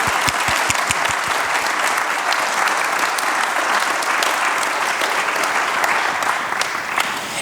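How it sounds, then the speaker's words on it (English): An audience at a media and truth panel discussion breaks into sustained, dense applause, with steady clapping that fills the room evenly from start to finish and no voices standing out. "why don't we just applaud for these people a little bit more"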